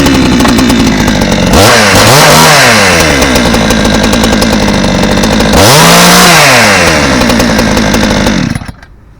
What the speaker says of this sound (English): Saw starts right up.